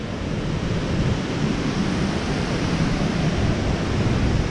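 Tugonan Falls, a waterfall on a forest trail in Agusan del Sur, roars as a steady, dense rush of falling water that fills the whole span evenly and without a break.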